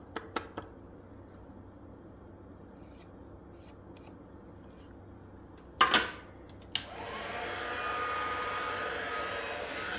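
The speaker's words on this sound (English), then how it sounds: "I'll just heat up my heat tool." A heat embossing tool used in card making switches on after a few small clicks and taps and blows hot air with a steady, close whooshing hiss that continues to the end.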